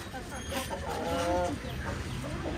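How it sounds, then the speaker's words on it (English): Aseel fighting rooster, a tall game breed from India, clucking and calling close by in a noisy farmyard, with a short throaty vocalization amid background chatter. "this is an Aseel fighting rooster"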